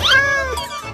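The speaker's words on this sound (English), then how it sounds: "You're welcome, pretty kitty!" A cat gives a single clear, drawn-out meow with a rising then falling pitch, close and fairly loud, fading away at the end.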